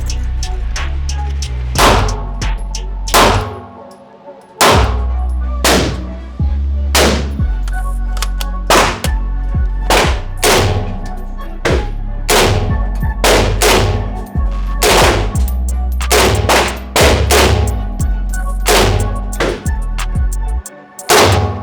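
Loud, close gunfire from a gun being shot outdoors: a long run of sharp, booming shots, some single and some in quick bursts, each ringing out with a brief echo.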